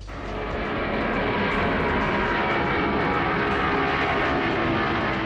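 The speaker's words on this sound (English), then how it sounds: "the roar of its four engines can be heard from miles away" Huge four-engine aircraft roaring loudly and steadily, a dense continuous engine drone filling the whole stretch without pause, close and overwhelming, no voices.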